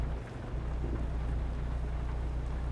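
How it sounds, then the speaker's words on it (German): Thunderstorm in the American Truck Simulator game at night, with a dense, even wash of rain and low rumbling that holds steady throughout, no voices over it. "Es gewittert, Chats."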